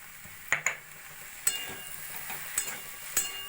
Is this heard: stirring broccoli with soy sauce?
yes